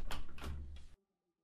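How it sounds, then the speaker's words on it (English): A door closing in a horror game set in a hotel room, a short thudding swing with a couple of knocks, then a firm shut and abrupt silence. "Close that door."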